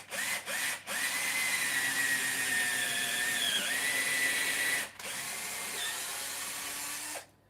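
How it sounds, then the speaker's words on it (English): A power drill bores steadily through the stacked, glued plywood sole of a roller skate boot, a high sustained whine broken by short pauses, close and fairly quiet. "Just allow the drill to take itself through."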